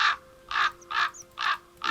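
A raven in the video game Broken Ranks gives four loud, harsh caws in an even rhythm, each about a quarter second long, close up with no talking.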